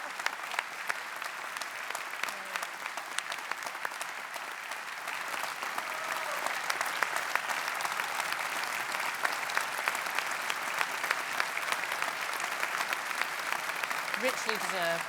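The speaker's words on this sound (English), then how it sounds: "We'll wait for the applause to subside" A hall full of people at a University of Brighton honorary degree ceremony applauds Dame Marianne Griffiths. The clapping is sustained and evenly packed, swells slightly partway through, and carries on without a break.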